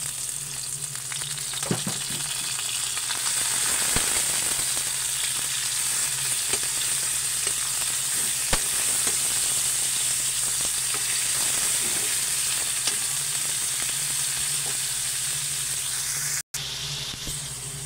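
Ground pork giniling fries with onions in a hot pan, a loud, continuous sizzle with scattered pops and occasional scraping stirs, steady from start to finish with no talking.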